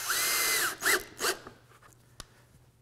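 A power drill drives a screw through pre-drilled plywood into a board below, a few rising whirring bursts up close, each ending with a short spin-down, followed by quiet handling noise.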